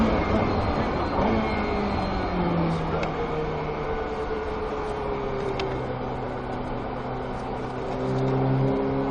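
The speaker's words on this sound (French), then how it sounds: "On élargit, on reprend l'accel, on passe un rapport, un autre" A Ferrari F8 Tributo rated at 720 hp accelerates hard and shifts up through several gears, its steady engine drone rising in pitch between shifts, loud and close throughout.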